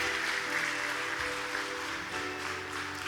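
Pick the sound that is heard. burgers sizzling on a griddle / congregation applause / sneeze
congregation applause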